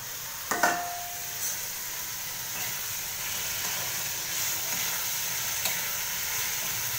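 Chopped capsicum sizzling in hot tempering oil in a pan, a steady close hiss with a few soft clinks of a spoon near the start, without talk.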